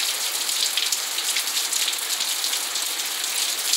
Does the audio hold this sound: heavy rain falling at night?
yes